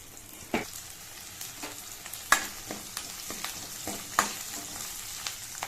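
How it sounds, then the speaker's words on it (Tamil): Garlic and onion sautéing in a pan after mustard and fenugreek seeds for a curry-leaf kuzhambu, a soft continuous sizzle broken by sharp spoon taps and scrapes against the pan at irregular intervals. "பூண்டு போட்டு வதக்கிக்கலாம்."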